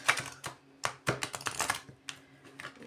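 Deck of tarot or oracle cards being shuffled by hand, close and fairly quiet, with a series of irregular crisp riffles and taps of card edges.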